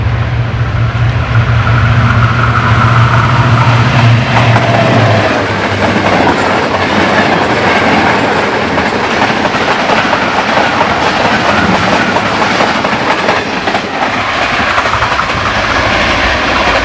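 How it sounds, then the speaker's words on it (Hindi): The Green Line Express, led by an HGMU-30 locomotive, rushes past a railway station near Lahore, loud and close. A low engine drone is followed by continuous clattering wheels and rail noise. "5 अप ग्रीन लाइन एक्सप्रेस का टाइम हुआ, जिसकी लीड पर HGMU 30 लोकोमोटिव था"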